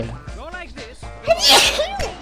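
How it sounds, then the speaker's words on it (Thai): In the video game Battleblock Theater, a cat character lets out one loud, close sneeze after a short build-up. People are talking around it. "จะจามนะไอแมวบ้านนี่"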